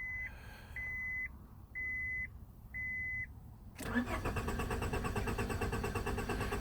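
A 1998 Honda Accord with a fault that keeps it from starting gives four evenly spaced electronic beeps, then the starter cranks the engine loudly and continuously without it catching.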